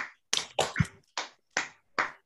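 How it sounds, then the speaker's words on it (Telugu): A few sharp claps ring out in scattered bursts at an online concert right after a young student's Carnatic devotional song, close and fairly quiet with short gaps between them. "క్లాప్స్ మా."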